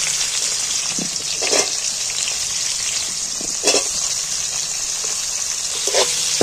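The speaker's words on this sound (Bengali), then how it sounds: "আর অর্ধেকটা পেঁয়াজ আমি তেলের মধ্যে তুলে দিচ্ছি" Onions frying in a little hot oil for a Bengali jackfruit curry, a steady bright sizzle with occasional louder crackles and spatters, close and continuous.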